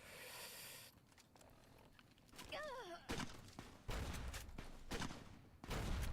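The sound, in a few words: grenade launcher firing in the video game Fallout: New Vegas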